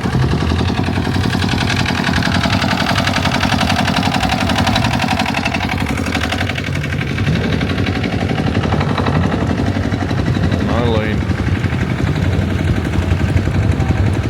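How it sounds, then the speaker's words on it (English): A loud, rough articulated tractor engine chugging steadily at a low rumbling pulse, running continuously and close by with no voices. "Like an articulated tractor."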